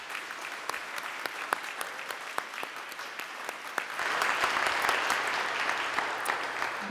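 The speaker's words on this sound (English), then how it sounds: "So let's give her a big round of applause." Audience at a Brainerd campus commencement ceremony applauds retiring dean Martha Keene, steady dense clapping that swells louder midway and carries on alone for about seven seconds.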